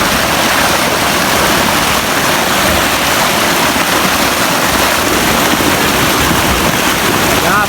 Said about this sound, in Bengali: পানির আওয়াজ